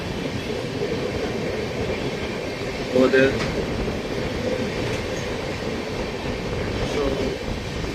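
A passenger train runs on broad gauge track between Jaipur and Rewari, giving a steady, loud rumble with faint clicks throughout, while someone speaks briefly over it.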